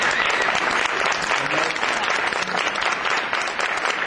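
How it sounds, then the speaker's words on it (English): Applause at a formal gathering honouring committee members, a sustained even roar of many hands clapping, loud and near throughout, with no speech over it. "Let's give them a round of applause."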